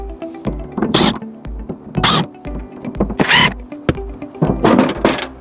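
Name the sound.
undoing four corner screws of a combiner box lid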